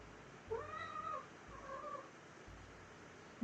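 A pet cat named Zeke meows twice, two soft drawn-out calls close by in a quiet room.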